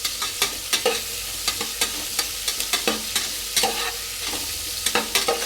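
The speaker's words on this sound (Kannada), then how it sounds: "ಈರುಳ್ಳಿ 2 ನಿಮಿಷ 3 ನಿಮಿಷ ಫ್ರೈ ಆಗಲಿ." Onions frying in a pan for mutton biryani, a loud close sizzle broken by regular spatula scrapes and knocks as they are stirred.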